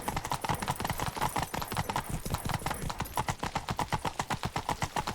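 Horse hooves clip-clop in a steady, fast galloping rhythm in The Witcher 3 video game, loud and close, with no talk over them.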